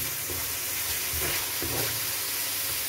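Scallops sizzling as they fry in a pan for a stir fry with celery, black fungus and chili, giving a steady close hiss with faint stirring bumps and no talk.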